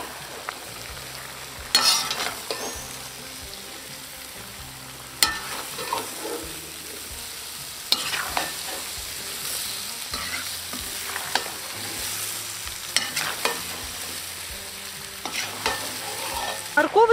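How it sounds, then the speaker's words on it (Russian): Carrots for beef plov fry in a pot while a utensil stirs them, producing a steady sizzle with several sharp metallic scrapes and knocks at irregular intervals. "Обратите внимание, сколько морковки. Добавляем. Все хорошо перемешиваем."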